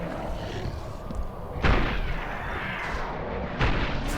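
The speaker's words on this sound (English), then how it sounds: "Toss a grenade down the hall to get them to be staggered." A grenade explosion in the video game Resistance: Fall of Man, set off down a hallway. Two heavy booms land about two seconds apart over a constant rumbling game backdrop, with no talking.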